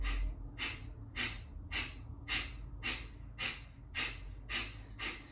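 Forceful rhythmic exhales during a yoga breathing exercise, about ten sharp nasal bursts evenly spaced roughly every half second, close and clear with no talking.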